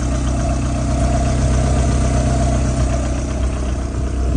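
A VAZ 2107 Jiguli fitted with a Priora engine idles close by, giving a loud, steady, unbroken engine hum that holds an even rhythm throughout.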